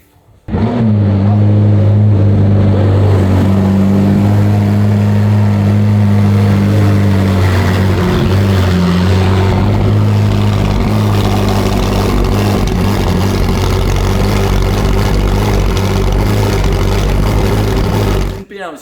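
A McLaren P1 GTR race-version hypercar engine running close and loud, a strong low-pitched idle with shifting tones and mild revving, sustained for about eighteen seconds before cutting off; talk may sit underneath.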